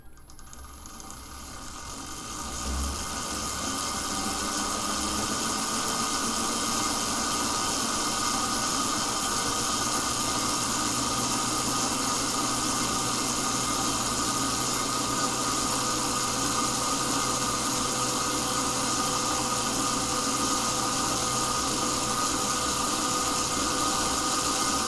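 A new standard generator starts up and settles into a steady, loud running drone with a rattling mechanical whine, holding constant for about twenty seconds with no talking.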